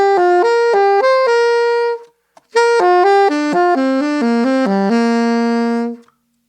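Pentatonic scale played in thirds on a bright, clean, sustained instrument, ascending in a run of distinct notes. A short gap follows, then a descending run. It is close and alone, with no voices.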